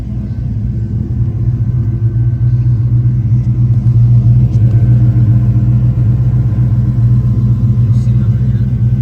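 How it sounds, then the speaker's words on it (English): Deep, steady exhaust rumble from a 1998 Ford Mustang GT with a 5.0L engine and manual transmission, loud and close, idling continuously with no clear revving. "Have a listen to the exhaust."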